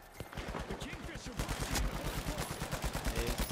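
Rapid repeated gunshots in an online shooter game, a steady fast string of sharp, loud reports close by that keeps going without a break.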